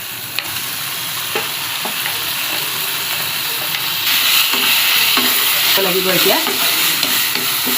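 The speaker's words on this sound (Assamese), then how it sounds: "জিৰা কটা জিৰা দি দিলোঁ ইয়াতে আদা নহৰু পিঁয়াজ জলকীয়া পেষ্ট দি দিলোঁ নিমখ দিলোঁ হালধি দিলোঁ ৰঙা কৰি ভাজিব লাগিব" Cumin, ginger, garlic, onion and chilli paste with salt and turmeric fry in a pan for a chicken dish, giving a steady close sizzle with occasional stirring scrapes, and a brief voice speaks over it.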